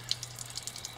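A tap runs steadily into a sink while hands are washed beneath it, a soft, even stream of water with faint small splashes, quiet and close.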